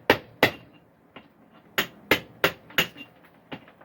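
Close, ringing hammer strikes hit at an uneven pace, about nine blows with short gaps, each one sharp and metallic.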